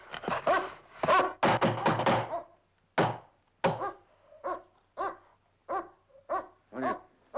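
A dog barks repeatedly and loudly up close, starting with a dense cluster of rapid barks and then settling into single barks spaced about half a second apart.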